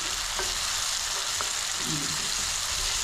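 Small raw fish fry in hot oil for a curry, giving a loud, continuous close-up sizzle with faint stirring and a brief voice in the background.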